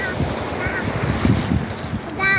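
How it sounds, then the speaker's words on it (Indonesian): Moderate sea waves roll in at Ulee Lheue beach in Banda Aceh, a steady broad wash of surf with wind buffeting close to the microphone and some brief tonal sounds over it. "Ombaknya juga sedang ya, nggak begitu besar ya."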